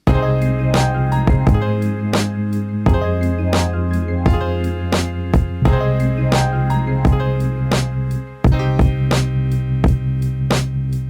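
A full lofi beat loop with every track processed through the Serato Hex FX plugin, steady sustained chords and bass under a regular pattern of sharp drum hits, playing continuously with a brief dip near the end.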